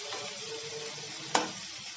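Potatoes sautéing with spices in a pan give a steady close sizzle, with one sharp scrape of a spatula partway through.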